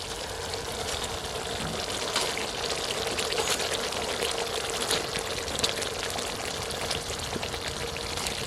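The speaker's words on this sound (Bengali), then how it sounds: "এখন দিয়ে দেবো ফেটিয়ে রাখা টক দই।" Whisked sour yogurt is poured into hot frying masala while cooking hilsa pulao, giving a continuous hissing sizzle with wet, crackling bubbling close by and steady throughout.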